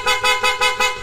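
A Bosch Europa horn fitted to a Honda Rebel 1100 motorcycle sounds in four quick, loud, close blasts, an even beep-beep rhythm with a bright, buzzy twin-tone edge.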